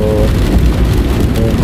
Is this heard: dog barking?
no